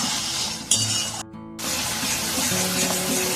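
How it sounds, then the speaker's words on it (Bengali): Spices being fried with jackfruit and Kashmiri red chili powder in a pan, a close, steady sizzle broken by a sharp clink of utensil against the pan and a brief near-silent gap before the frying resumes. "ভালোভাবে এখানে মশলাটা আমি কষিয়ে নেব।"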